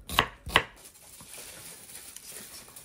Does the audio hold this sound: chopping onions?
yes